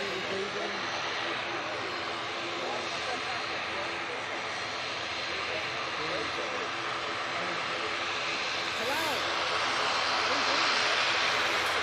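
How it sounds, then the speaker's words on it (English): A British Airways Airbus A320neo on final approach to Manchester Airport gives a steady jet engine whine and rumble that grows slightly louder toward the end, with a person talking over it. "on final now, we have another British Airways shuttle coming up from Heathrow, using the A320neo for this flight"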